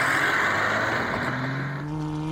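A small Mazda car races along a backyard straightaway, its engine droning loudly and steadily with a rising pitch as it accelerates, heard alone with no voices.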